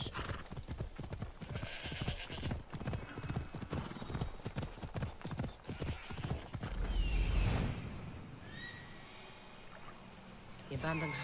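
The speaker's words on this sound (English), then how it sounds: "I got a horse." Steady clip-clop of hooves trotting in a quick rhythm in Assassin's Creed Odyssey, then a horse whinnies loudly near the end, with faint background ambience.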